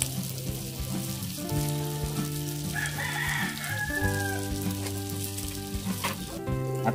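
Crispy pork sisig sizzling on a hot plate, a constant close crackle and hiss, with a rooster crowing faintly in the background partway through and low tonal hum underneath.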